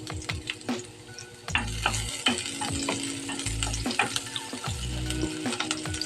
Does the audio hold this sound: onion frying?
yes